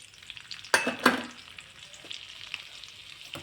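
Asafoetida dropped into melted butter in a pan for pav bhaji, giving two sharp sizzling bursts close up that settle into a soft steady crackle with a few faint clinks.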